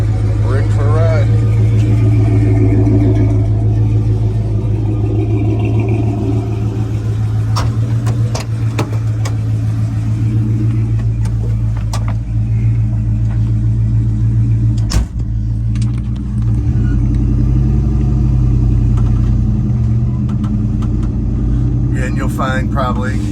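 Restored 1978 Ford Bronco Ranger XLT 4x4 driving, its engine a loud, steady low rumble that lasts throughout, with brief clicks and knocks from the cabin; a voice is heard now and then beneath the engine noise.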